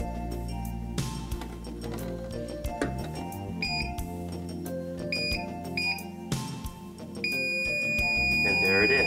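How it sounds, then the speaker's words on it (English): A circuit breaker finder beeps at the breaker panel with irregular tonal chirps and clicks, up close and moderately loud, rising into a sustained tone near the end. "And it'll beep on all the live ones."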